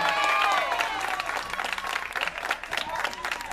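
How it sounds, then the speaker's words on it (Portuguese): An audience claps and applauds Marcos at a welcoming celebration, a dense burst of clapping with whistles and cheering voices over a few seconds. "Aplausos. Para Marcos, pessoal."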